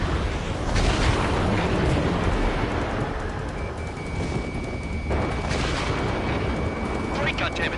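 A missile strikes a fighter jet in a combat flight video game, set against a continuous roaring rumble of jet and explosion noise, with a warning tone and radio voices talking through it.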